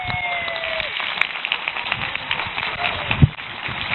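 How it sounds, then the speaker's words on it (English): Applause from a conference audience at RubyConf AU 2016 for performers in a Shakespeare skit, moderate and uneven with scattered claps and one sharp clap near the end, under faint talk. "Round of applause, standing ovation for our players!"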